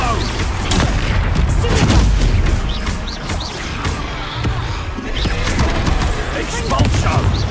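Spell blasts from the Expulso curse in the Hogwarts Legacy video game, a dense run of booming explosive hits over heavy low rumble that stays loud throughout, with a voice speaking over the combat.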